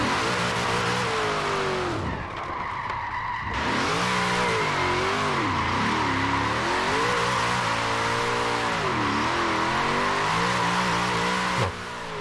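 A car drifts in the racing game Forza Horizon 4, with its engine revving hard and droning continuously for about twelve seconds, pitch swooping up and down through slides, with tire squeal and little else over it.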